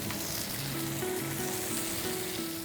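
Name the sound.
squid and tentacle pan-frying, sizzling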